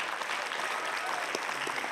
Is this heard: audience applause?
yes